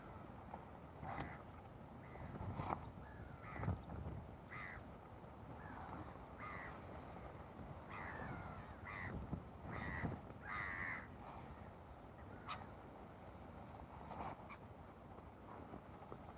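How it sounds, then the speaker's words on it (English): Crows caw repeatedly by a shoreline during a fishing trip at Eastney, harsh calls scattered irregularly at moderate distance over continuous wind and water noise. "A lot of birds here, so don't worry if the mod goes."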